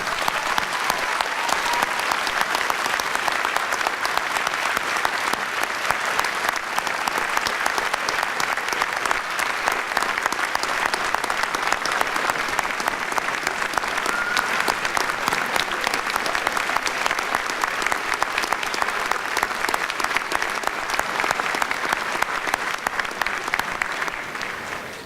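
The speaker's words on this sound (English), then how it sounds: "Please, let's have an applause for the families." Sustained applause from a large audience at a university commencement ceremony, steady and dense clapping for about twenty-five seconds before tapering slightly at the end.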